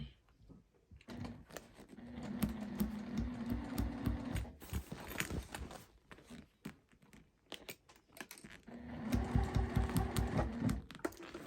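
A sewing machine top stitches a tote bag in two quick bursts with a rapid, even mechanical chatter, separated by a pause with soft handling clicks.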